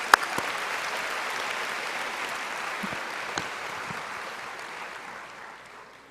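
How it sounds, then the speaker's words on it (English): Medical school commencement crowd delivers a sustained, even round of applause that tapers slightly toward the end. "Let's give our keynote speaker another round of applause."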